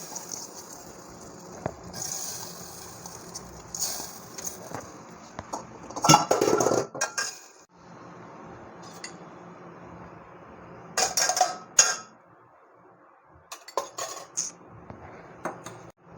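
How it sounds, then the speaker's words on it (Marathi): Rice is stirred and sautéed in ghee in a pan, intermittent metallic scraping and clinking of a spoon against the pan in short bursts separated by near silence. "त्याच्यात मी एक चमचाभर तूप घालून घेते आहे त्यानंतर मी ह्या ठिकाणी तांदूळ परतवून घेते आहे"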